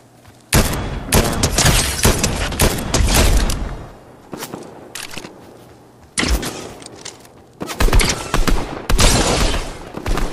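Gunfire in the video game Fortnite comes in loud, close bursts of rapid shots, broken by brief lulls and punctuated by sharper single blasts, with no talk over it.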